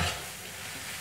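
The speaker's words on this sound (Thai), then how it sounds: "สุดท้ายเราก็ตามด้วยถั่วงอกค่ะ คลุกเคล้าให้เขาพอสุกนะคะ" Bean sprouts being tossed and stirred in a hot pan, a steady soft sizzle with light scraping throughout, close and alone.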